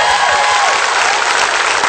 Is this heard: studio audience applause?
yes